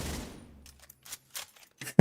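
Video game gunfire from a long-magazine rifle: a rapid burst of shots at the start decaying into a ringing tail, then a few scattered single shots and a final sharp report, loud and close with no talk.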